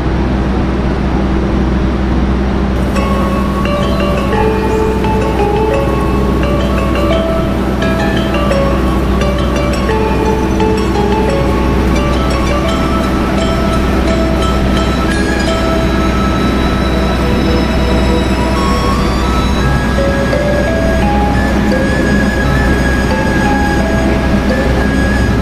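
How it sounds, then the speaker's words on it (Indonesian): The Manahan executive passenger train pulls out of a station, a loud, steady rumble of wheels on rails with tonal squeals and hums rising and shifting throughout, close by and continuous with no talk. "Seperti ini, kereta Manahan berangkat."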